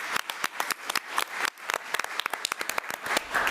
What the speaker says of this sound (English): So let's give Nathan another round of applause.